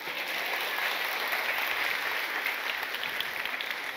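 A church congregation at a Bengali sermon claps loudly together, a dense, even wash of applause that holds steady throughout without talk.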